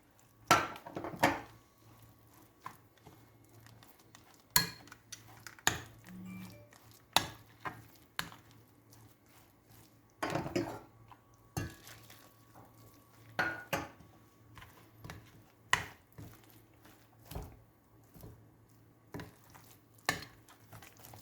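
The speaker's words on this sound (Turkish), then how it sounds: "kaynar kemik suyuyla şimdi bunu karıştıracağız" Meat spice paste being stirred with boiling bone broth, with a spoon knocking and scraping the pot in scattered clacks and soft wet stirring throughout, no talk.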